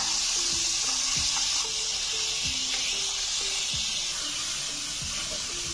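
Chopped medium-sized onion sizzles steadily in hot oil in a pan while cooking bhindi chicken, a dense continuous frying hiss, with a few soft low clanks of a spoon stirring now and then; no one speaks.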